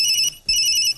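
A phone ringtone sounds in two quick, bright electronic bursts separated by a brief gap, loud and close.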